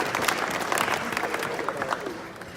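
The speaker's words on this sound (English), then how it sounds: "let's give her a round of applause in her absence" Audience applause at a civic dinner, steady dense clapping throughout at moderate loudness, with faint voices mixed in beneath.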